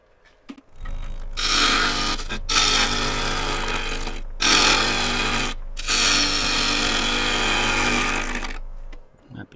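A woodturning tool cuts into American elm spinning on a lathe, making loud, continuous, close rasping and shearing passes under a steady motor hum, broken by a few brief pauses, with no talking.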